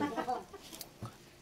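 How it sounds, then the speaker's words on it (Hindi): An agitated rooster in a village in Bageshwar, Uttarakhand, gives a quick run of clucks up close, followed by a short pause and one more cluck. "अरे बाप रे, काटने के लिए आ रहा है ये काटने वाला मुर्गा।"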